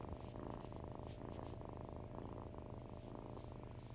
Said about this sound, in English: Because she's purring.